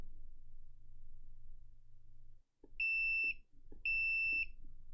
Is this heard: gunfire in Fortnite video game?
no